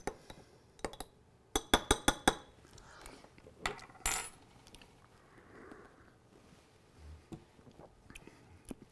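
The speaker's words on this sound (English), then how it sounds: "So I'm just gonna stir this, I'm gonna take a taste." A spoon stirs an espresso shot in a cup, giving a quick run of bright clinks against the ceramic near the mic, followed by softer scrapes and a faint sniff, with no talking.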